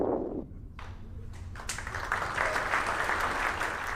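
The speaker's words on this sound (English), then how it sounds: "met with a good cheer from our team" A mission control team cheers and claps at a satellite launch, the noise swelling after a brief quiet moment and holding as a steady broadband roar of applause and voices.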